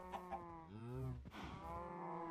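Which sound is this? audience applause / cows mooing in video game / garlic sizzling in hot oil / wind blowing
cows mooing in video game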